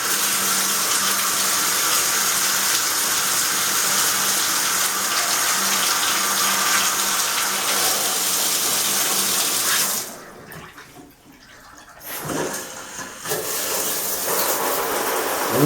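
Water streams steadily from a shower head fitted with a newly installed flow regulator, a loud continuous hiss that briefly drops away and then resumes at full strength.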